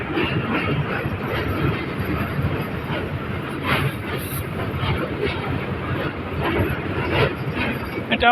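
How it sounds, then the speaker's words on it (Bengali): A train, including freight wagons, rumbles across the Teesta railway bridge near Rangpur with a continuous, rolling roar and faint rhythmic clatter, heard from a short distance with some wind and a few voices in the background. "তিস্তা ব্রিজের উপর দিয়ে এখন ট্রেন চলে যাচ্ছে"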